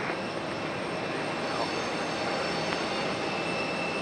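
An arriving airliner at Raleigh-Durham airport, a steady distant jet roar with a faint high whine, continuous and even throughout.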